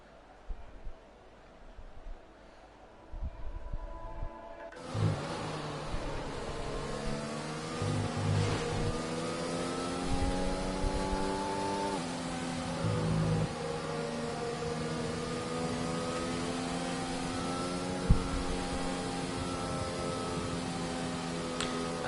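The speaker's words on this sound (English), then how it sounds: "Everyone is on the grid starting their formation lap." Race cars in a racing video game rolling through a formation lap at a Spain circuit, engines droning steadily with rising and falling harmonic pitch after a quieter start, with commentary voices talking over them.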